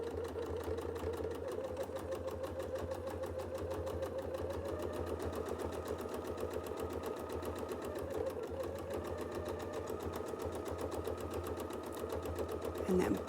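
A sewing machine stitches free-motion quilting in a rapid, even run of needle strokes over a low motor hum, close and continuous throughout with no pauses.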